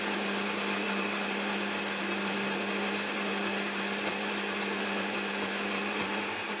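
A blender runs steadily on full power mixing homemade mustard seeds, giving a continuous, even motor whine with a stable hum and no pauses.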